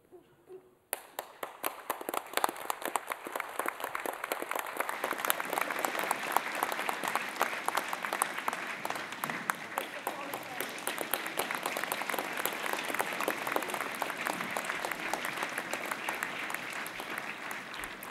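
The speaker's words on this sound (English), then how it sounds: "applaud those on stage, and then I'm going to ask you to turn around and applaud those family and friends here" Sustained applause from a graduation ceremony audience at a university in Manawatū, starting abruptly and continuing as a dense, steady wash of many hands clapping, with no one speaking over it.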